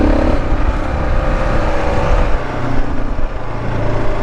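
A Kawasaki KLR 650 motorcycle throttles out in sand, its engine roaring steadily and close with rising and falling revs throughout.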